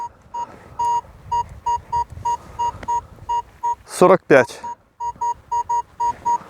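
A metal detector sounds a rhythmic series of short, clear beeping tones, one pulse after another, with a brief burst of speech partway through.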